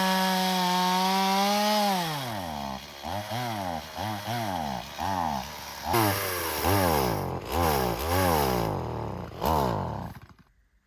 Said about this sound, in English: Having a little issues with the chainsaw.